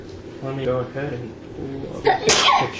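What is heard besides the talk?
sneeze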